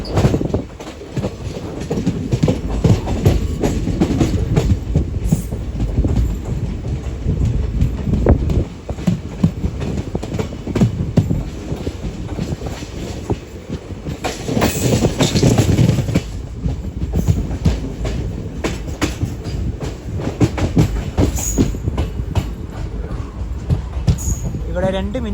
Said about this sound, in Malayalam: ട്രെയിൻ ഇതാ ഉഡുപ്പി റെയിൽവേ സ്റ്റേഷനിലേക്ക് എത്തിക്കൊണ്ടിരിക്കുകയാണ്.